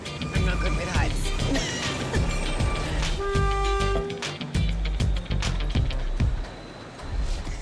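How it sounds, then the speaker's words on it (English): The St. Kitts Scenic Railway sugar train rumbles along with dense clattering rail noise and a sustained horn tone partway through, loud and continuous, with a voice talking over it. "the sugar train carries visitors eager to discover the island's scenic vistas and lush ravines"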